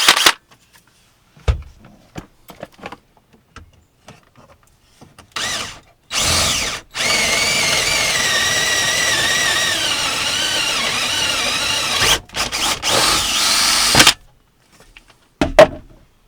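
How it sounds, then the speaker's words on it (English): A power drill boring a large hole between two metal brackets inside a camper van, one sustained whining run of several seconds, close and loud, preceded and followed by short bursts and handling clatter. "I just drilled a large hole in between these 2 metal brackets"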